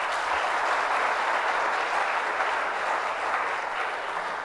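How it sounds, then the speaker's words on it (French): Steady applause from a studio audience at a televised quiz match between two Haitian school teams, dense clapping held evenly loud throughout without pause. "Applaudissements s'il vous plaît."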